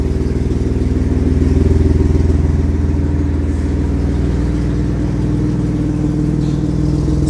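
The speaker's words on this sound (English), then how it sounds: "Wow, that's a loud truck. If he revs it up any louder, it'll sound like a Harley starting." A loud, steady engine rumbles close by, its low throbbing holding throughout with a slight swell as it revs.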